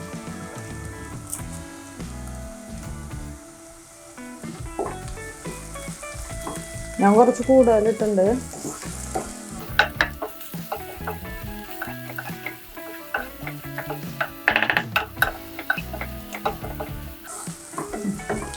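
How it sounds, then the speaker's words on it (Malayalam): Onions and green chillies sauté in a pan for Kerala mutton curry, with a steady close sizzle and repeated scraping stirs that grow busier midway. A voice speaks briefly over the cooking. "സവാള എല്ലാം നന്നായി വഴന്ന് വന്നിട്ടുണ്ട്."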